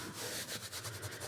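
Dried salt being rubbed off an acrylic painting, a soft, faint, scratchy rubbing in quick short strokes, close up and alone.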